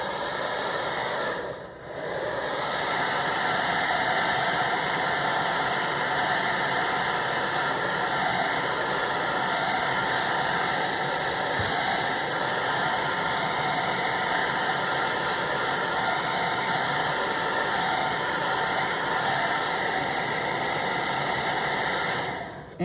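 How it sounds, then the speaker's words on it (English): A bathroom hair dryer on its cool setting blows over a painting, giving a loud, steady roar of rushing air that runs continuously for about twenty seconds after a brief dip near the start, with no voices. "blow dryer from the bathroom that I use for my hair, but it has a cool setting, so I can dry my painting and not have the high heat"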